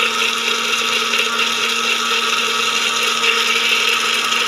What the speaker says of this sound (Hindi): ग्राइंड करते वक्त साथ साथ इसमें आपने जो कुकिंग ऑयल है उसको डालते जाना, थोड़ा उसके साथ साथ ग्राइंड करते जाना